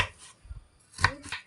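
A knife chops a vegetable on a cutting board in a home kitchen: a few crisp, close strikes spaced unevenly, with quiet pauses between them and no talking.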